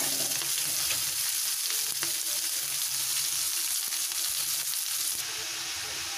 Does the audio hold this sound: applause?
no